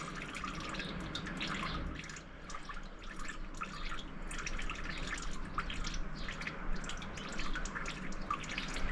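Engine oil draining from a car during a 6.5-quart oil change, a steady faint trickle with soft dripping patter that continues throughout.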